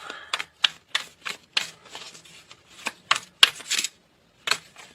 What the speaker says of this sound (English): I know the shuffling can be annoying sometimes